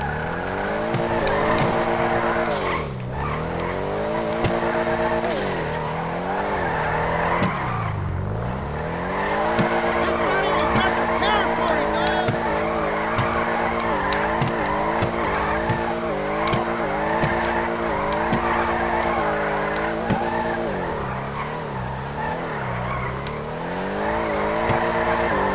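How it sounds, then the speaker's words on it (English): A lowered car drifts in GTA, its engine droning and revving with repeated long tire squeals and skids as it slides, loud and continuous with no talk. "non-manually lowered car drifts."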